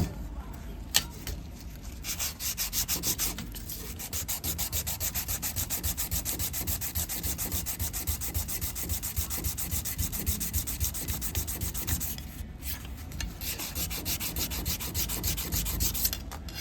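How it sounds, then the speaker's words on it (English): Stainless steel car trim being sanded by hand with sandpaper, a steady close scratchy rubbing that runs nearly continuously with brief pauses, loud and alone with no talk. "More sandpaper."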